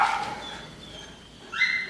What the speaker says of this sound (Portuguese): Os cachorros tá latindo.